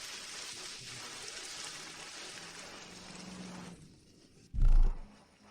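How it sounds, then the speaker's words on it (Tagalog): Heavy rain falls as a steady broadband hiss for nearly four seconds before easing, followed by a short, loud low thump. "Ang lakas ng ulan."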